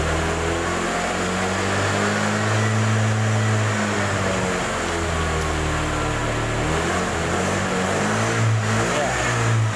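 A Honda Vario scooter engine revs steadily, its pitch rising and falling in smooth sweeps, a loud, continuous mechanical drone heard close up.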